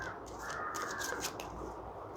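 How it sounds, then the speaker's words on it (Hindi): Faint, hoarse cawing from a raven at a distance, a few drawn-out calls over a low outdoor hum. "आपने कौवे का आवाज़ सुना? ये रेवन है।"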